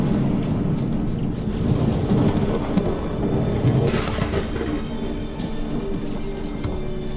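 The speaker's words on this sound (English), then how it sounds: "why am I hearing thunder if it's clear outside?" Thunder in the fantasy video game Enderal, a broad, continuous rumble with rain-like hiss that swells and fades over several seconds and carries no talk.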